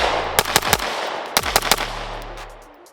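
A Staccato C pistol with six-port cuts in the slide fires two quick strings of three sharp, loud shots, each followed by a short echoing tail, with no talking.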